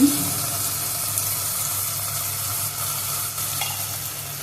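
A spice mix with turmeric and salt fries in a pan for an egg kosha curry, giving a steady close sizzle with faint stirring scrapes throughout and no talking.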